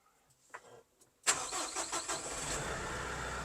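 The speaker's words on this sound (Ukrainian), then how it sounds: "Це коли ми запускаємо, включаємо трактор." After a quiet moment with small clicks, a tractor engine cranks and catches abruptly, then settles into a loud, steady rumbling idle nearby.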